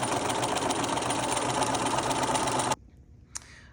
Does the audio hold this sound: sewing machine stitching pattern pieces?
yes